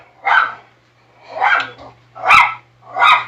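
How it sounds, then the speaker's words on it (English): A dog barks four times from another room in a house, loud single barks spaced about a second apart over a faint steady hum. "That's my dog going off."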